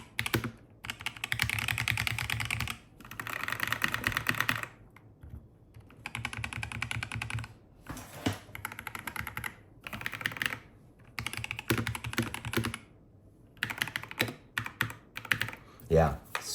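Fast bursts of clacking on an EpoMaker MagCore 65 mechanical keyboard, close and crisp, broken by short pauses between runs of keystrokes.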